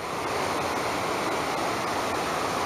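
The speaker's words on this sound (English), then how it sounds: "Let's take you to the river." River water rushing past an old mill site, a dense, steady roar of flowing water that fills the whole moment with no voices.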